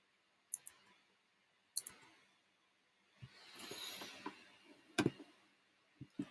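Computer mouse clicks in a music composition program: sharp isolated double clicks, close and fairly quiet, spaced a second or so apart, with a soft rustling wash between them.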